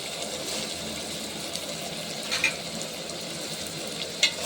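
Onions, green chillies, tomato and drumstick pieces fry in hot oil with tempering spices, a steady soft sizzle with a few faint clinks of a utensil against the pan.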